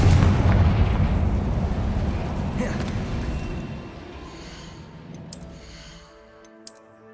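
A booming fiery blast from the Confringo explosive spell in Hogwarts Legacy on PS5 bursts loudly at the start, then rumbles and fades over several seconds, with light chimes and effects near the end.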